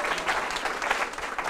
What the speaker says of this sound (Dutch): groot applaus voor